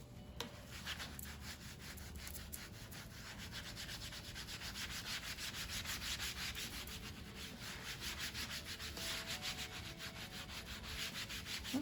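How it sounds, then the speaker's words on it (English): A Cricut cutting mat being scrubbed clean with Dawn dish soap, a continuous close rasping rub in quick back-and-forth strokes that holds steady throughout without talk. "I could probably do a little bit more rubbing here with the Dawn soap."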